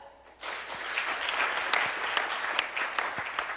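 A conference audience claps for the moderators, a steady wash of applause with a few sharper individual claps standing out.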